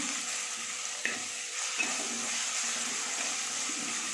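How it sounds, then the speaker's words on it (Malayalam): Chopped ginger being stirred in a hot pan for Kottayam-style fish curry, a soft continuous sizzle with a few quiet scraping knocks of the spoon, fairly faint and without talk. "ഇഞ്ചി അരിഞ്ഞ് വെച്ചതും കൂടെ ഇട്ട് കൊടുക്കാം. ഇതൊന്ന് കുറച്ച് വെച്ചിട്ട് നമുക്കൊന്ന് ഇളക്കി കൊടുക്കാം."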